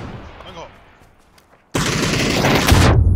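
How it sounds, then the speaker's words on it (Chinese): Gunfire in a shooter video game: a quiet stretch with faint background sounds breaks into a sudden, loud, sustained burst of rapid shots that runs to the end. "蓝标那里附近刚刚有一个枪声"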